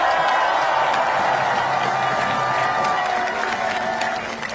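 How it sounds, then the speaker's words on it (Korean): Crowd applause at a Korean election campaign rally in Anyang, loud sustained clapping mixed with some cheers and a few scattered voices, fading slightly toward the end. "여러분 오늘 밤에 잠을 잘 주무실 수 있도록 박수 크게 한번 해주세요"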